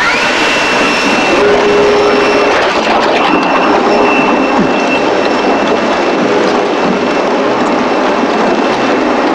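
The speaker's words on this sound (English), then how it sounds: "Now let's see how it holds up to the wind simulation." A strong simulated wind roars steadily against a conventionally built house, a loud, continuous whooshing rush with no letup and no talking.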